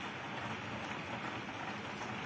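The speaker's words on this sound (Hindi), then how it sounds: "फिलहाल बारिश लगातार हो रही है, और बारिशों का सिलसिला पिछले एक घंटे से लगभग यहां जारी है।" Steady rain falls across Lal Chowk in Srinagar, a dense, even hiss of drops on streets and surfaces that holds unbroken from start to finish with no voices.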